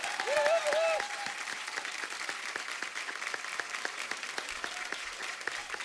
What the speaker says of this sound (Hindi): टीम के लिए जोरदार तालियां।